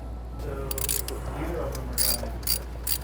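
A bolt tucked beneath the wire harness on a BMW N55 engine is worked loose, producing quick ratcheting clicks in short bursts over a low hum, with some voice in the background.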